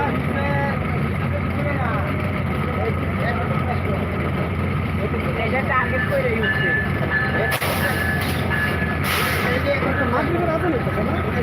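A train on Bangladesh Railway rumbles steadily past a stopped train with continuous loud mechanical noise, a couple of sharper hissing bursts near the end, and voices talking in the background.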